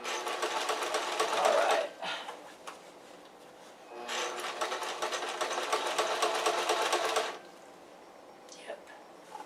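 A sewing machine stitches fabric for a pair of walking shorts in two sustained runs of rapid mechanical whirring, separated by a pause where a voice briefly speaks.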